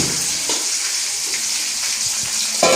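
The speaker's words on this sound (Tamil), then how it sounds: "இது பாருங்க நல்ல வடிவா பொரியுது, நல்ல வடிவாக கொத்துக்கு நல்ல தேவையான பொருட்கள் பொரிஞ்சு கொண்டு இருக்குது வெங்காயமும்." Onions for kothu roti fry in hot oil with a close, steady bright sizzle. A few soft scrapes of stirring come through, and there is a slightly louder clink at the end.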